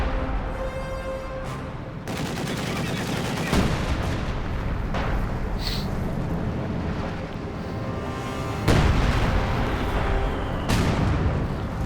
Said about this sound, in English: Mortar firing away as well.